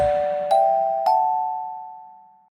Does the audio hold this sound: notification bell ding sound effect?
yes